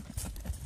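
Karabair horses running, quick hoofbeats thudding in a short rapid rhythm, moderately loud and close, without talk.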